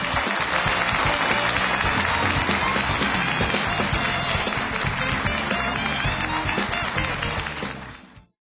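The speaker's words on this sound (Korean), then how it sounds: "여러분 힘찬 박수 부탁드립니다" Sustained audience applause after a lecture by a company CEO, a dense, steady wash of clapping hands lasting about eight seconds before fading out abruptly at the end.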